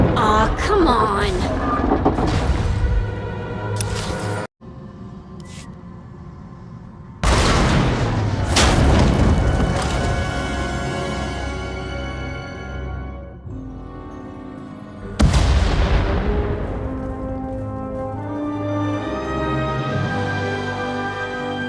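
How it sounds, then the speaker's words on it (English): Loud, full-range blasts in the video game Star Wars: The Old Republic, with sharp onsets followed by long rumbling decays, three main bursts over a dense, music-like background. "We heard explosions."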